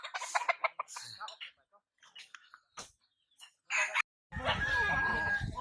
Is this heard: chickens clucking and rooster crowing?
yes